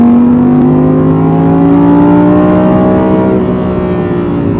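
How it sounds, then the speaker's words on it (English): A high-revving Audi R8 GT V10 engine screams loudly and steadily, its pitch climbing smoothly as it winds up toward the top of the rev range, near 8,000 rpm, with no voices. "Listen to that engine in full song."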